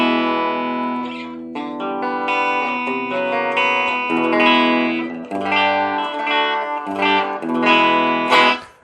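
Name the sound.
clean electric guitar tone with light reverb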